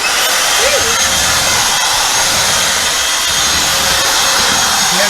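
A vacuum cleaner runs steadily and loudly inside a travel trailer, with a constant broadband whir that holds level throughout without pause.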